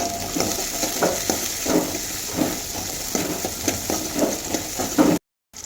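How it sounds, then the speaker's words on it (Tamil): Shallots sauté in hot oil for tomato sambar, a steady sizzle under a regular rhythm of spoon strokes scraping the pan, close and moderately loud, ending abruptly. "சின்ன வெங்காயம் போட்டுக்கலாம். அதுவும் போட்டு அதோடய வதக்கிக்கோங்க"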